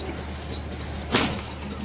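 King pigeons make a brief burst of wing flapping, with faint soft coos and a quiet background hum, all at moderate distance.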